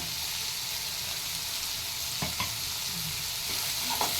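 Onions and tomatoes with salted dried anchovy (nethili karuvadu) sauté in oil in a pan for a home-style thokku, giving a soft steady sizzle broken by a few scraping stirs of the spoon, with no voices.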